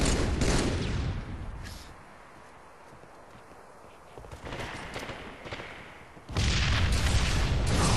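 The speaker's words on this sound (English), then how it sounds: "my teammate kills Riot with a bad grenade" A grenade blast in a Halo-style Team Slayer match, a heavy booming burst among other loud gunfire and explosion noise, rising abruptly near the end with dense, close, sustained rumble.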